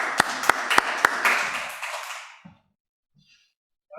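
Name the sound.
applause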